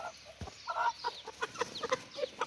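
A rooster clucks in short repeated bursts, fairly close, with a few scattered bird calls around it and no talking.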